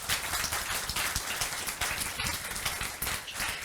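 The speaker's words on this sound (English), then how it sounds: "Let's give him a round of applause." A conference audience applauds a speaker, a dense, steady wash of many hands clapping at an even loudness throughout with no voices on top.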